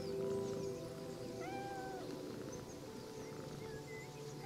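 A cat meows a few times, softly and with a gentle upward lilt, over a steady, calm ambient background.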